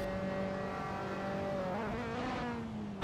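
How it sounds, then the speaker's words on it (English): Formula 3 race car engine in Assetto Corsa at Imola, sustained loud high-pitched engine note whose pitch drops then blips and rises again as the driver revs through a downshift, close and continuous. "Petrol really revving that engine on the downshift"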